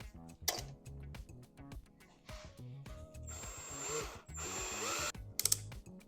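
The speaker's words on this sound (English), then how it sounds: "Now I gotta drill all the way through." A power drill boring through material while a towable potato cannon is built, its motor whirring in bursts that rise and fall, with a short rattling clatter near the end and no talk.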